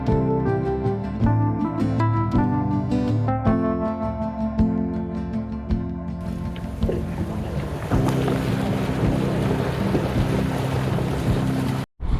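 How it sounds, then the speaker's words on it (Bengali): Music plays at first, then a loud, steady rush of churning water and engine noise as a safari vehicle drives through a river at Jaldapara, in rainy weather. "আমাদের গাড়ি এখন নদীর ওপর দিয়ে যাচ্ছে"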